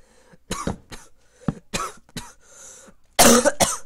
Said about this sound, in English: I drop stuff when I cough.